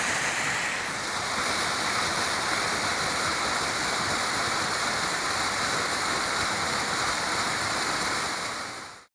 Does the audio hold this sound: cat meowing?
no